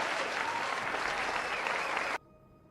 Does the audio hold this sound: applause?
yes